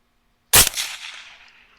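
One sharp, loud shot from a Rix Storm S3 air rifle fired at a hog, a sudden crack after silence followed by a short decaying echo.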